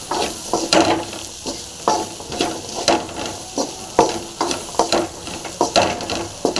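Grated coconut being stirred into jackfruit seed podimas in a pan, with repeated scraping strokes of a spoon against the pan over a soft sizzle, close and steady throughout.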